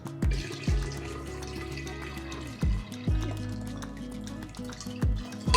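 Water pours and splashes into a jar for brewing kombucha in several short bursts, each with a rising gurgle, close up against a quiet background hum.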